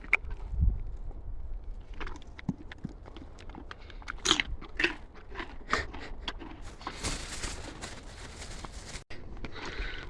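A pony chews and crunches celery close by, with repeated crisp bites and wet crackling mastication across the whole stretch, and no talking.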